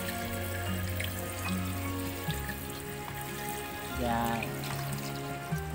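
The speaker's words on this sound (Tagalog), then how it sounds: "Gamit ako ng isang pitchel na tubig para mas maraming sabaw." A pitcher of water being poured into a pot of chicken tinola, a steady splashing stream under background music, with a brief spoken word partway through.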